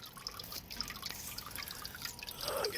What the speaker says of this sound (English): It's dripping out a little bit fast.